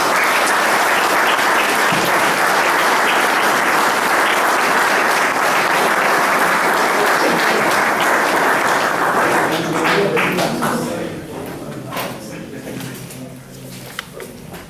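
Warm applause from an audience gathered for a rural teachers' college event endorses a statement, a loud steady clapping that fills the room for about ten seconds before thinning into scattered claps and a few voices.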